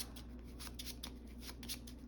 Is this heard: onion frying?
no